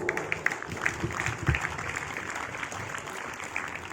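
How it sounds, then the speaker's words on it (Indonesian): A group claps together, a brief burst of applause that starts strong and thins out, moderately distant. "Tepuk tangan untuk kita semua."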